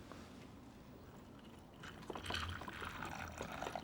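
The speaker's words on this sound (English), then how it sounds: "And then put some of this cold filtered water." Cold filtered water poured into a lemon and sugar mixture for fresh-squeezed lemonade, faint at first, then a brief splashing, trickling pour in the second half.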